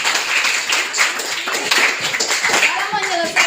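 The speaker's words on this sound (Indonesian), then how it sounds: "Ya, tepuk tangan untuk." Classroom clapping during a lesson, a short burst of hands applauding with overlapping voices of students.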